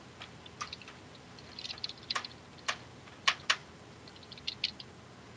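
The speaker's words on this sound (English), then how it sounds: "we can hear your button clicking, No Leaf" Faint button clicking and keyboard typing nearby, a scattered run of light sharp clicks in small bursts against a quiet background, with no speech.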